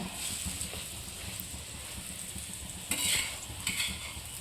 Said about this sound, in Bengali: ভালোভাবে ভেজে নিতে হবে দুপাশেই ভালো করে হ্যাঁ তারপরে তেল দিতে হবে